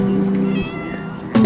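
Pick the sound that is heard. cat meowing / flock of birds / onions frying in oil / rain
cat meowing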